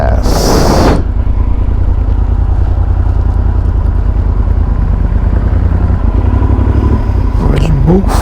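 Motorcycle pulling away from a gas station in Wilbur, Washington, with a steady engine drone and road rumble throughout, joined by a short burst of wind or hiss near the start.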